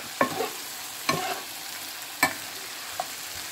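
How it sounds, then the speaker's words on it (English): Honey garlic chicken frying in a pan makes a soft, steady sizzle, broken by four sharp scraping stirs spaced about a second apart. The stirring is close and clear, and no one speaks. "keep stirring it around so it doesn't burn, but you can get a nice little color on it."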